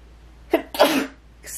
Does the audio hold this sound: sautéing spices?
no